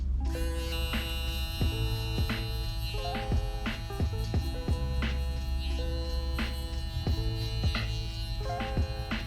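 An electric foil shaver buzzing during a barber skin taper haircut, a steady tonal hum with intermittent rhythmic strokes and music underneath.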